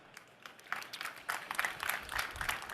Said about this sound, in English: Once again, Guru gets more applause than I do.